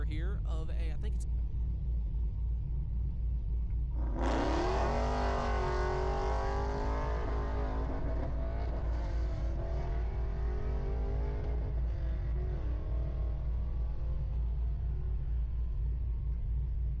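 A Pro Stock drag racing car rated at 3,500 horsepower launches with a sudden loud engine roar at a dragstrip, then its engine note sweeps upward and fades gradually as it runs away into the distance.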